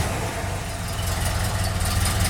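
A 1977 AMC AMX Hornet with its factory 304 V8, a one-owner barn find, runs at a steady low idle, its deep even rumble continuous and close with no talk over it.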